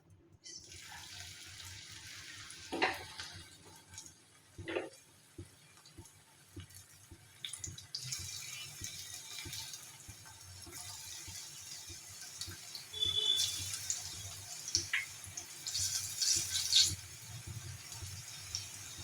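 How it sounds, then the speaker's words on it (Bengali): Small pennywort leaf pakoras fry in hot oil in a pan, producing a soft steady sizzle with occasional crackles and pops that grows a little busier later on, heard close and fairly quiet. "এখন আমি এরকম ছোট ছোট বড়ার শেপে ভাজতে দিয়ে দেবো"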